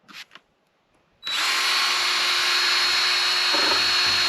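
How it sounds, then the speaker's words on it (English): After a couple of short knocks, a power sander starts up on a window with a loud, steady high-pitched whine that runs continuously to the end. "So you're just shaving off the window? Sanding it down, yeah."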